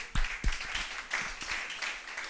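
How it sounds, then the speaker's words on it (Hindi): A church congregation at a Sunday service claps for Jesus Christ, producing a soft, steady wash of mixed applause with a few sharper claps near the start. "ताली बजाए प्रभु यीशु मसीह के लिए।"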